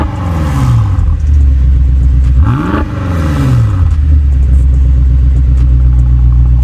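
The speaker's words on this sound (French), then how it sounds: "Je kiffe le bruit du V8 là." A BMW X6M with a V8 engine, rated at 575 hp, rumbles loudly and continuously, with one sharp rev that climbs and falls around the middle before it settles back into a deep steady burble.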